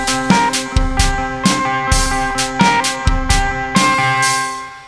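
Guitar riff in 5/4 time, built in FL Studio, with a programmed drum beat layered on top: repeating sharp hits and cymbal washes recur in an uneven loop over sustained tonal notes, loud and alone without speech.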